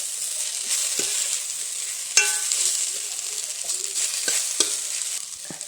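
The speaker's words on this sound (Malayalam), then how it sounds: "തക്കാളി വിട്ട് നല്ലപോലെ വഴറ്റി കൊടുക്കുക" Onions and tomatoes sizzle as they are sautéed in a pan for chicken curry. A steady fry runs throughout, with a few sharp clicks where a spoon stirs and scrapes the pan, close and fairly loud with no talk.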